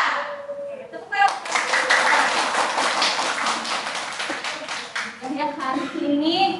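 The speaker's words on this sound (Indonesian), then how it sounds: "tepuk ya." Schoolchildren at Muhammadiyah Cirebon clap together in a quick, rhythmic burst in the classroom, close and loud, with a teacher's and children's voices at the start and end.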